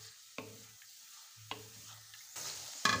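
Boneless chicken fries in a pan, a quiet sizzle punctuated by a few scraping stirs and spoon knocks, growing louder and busier in the last second.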